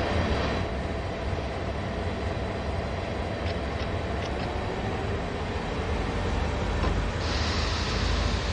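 A long freight train in Train Sim World 2 rumbles along Sand Patch Grade, a continuous heavy rolling roar of wheels and wagons with a faint high squeal, steady and close with no talk.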